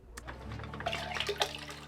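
Water from a garden fountain streams out through side vents in a cottage-style yard, producing a steady, quiet trickling and splashing that runs continuously with a few brighter spatters.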